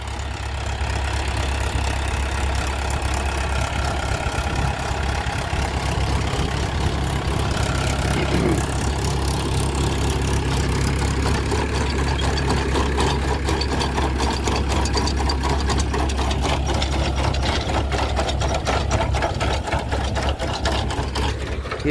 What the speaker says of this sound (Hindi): ये ट्रैक्टर है महिंद्रा 575, 13 के टायरों में, बहुत बढ़िया काम कर रहा है आलू।